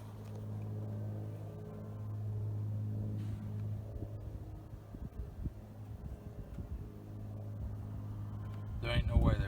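Steady low rumble of distant road traffic near a century-old building after a big storm, continuous throughout with a louder burst at the very end.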